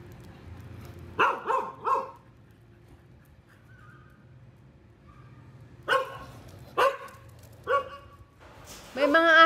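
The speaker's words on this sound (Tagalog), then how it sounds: "naririnig nila, kaya sila tumatahol." Dogs bark in short bursts, a cluster of quick barks, a pause, then several more spaced barks and a louder final volley, moderately close.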